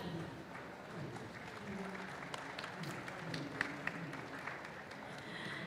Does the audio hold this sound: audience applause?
yes